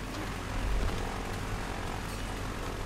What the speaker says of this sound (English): All the helicopter, blades here.